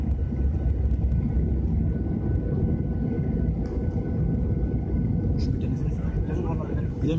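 A steady, low engine rumble fills an airplane cabin in flight, continuous and broad, with voices talking over it.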